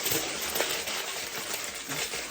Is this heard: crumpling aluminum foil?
yes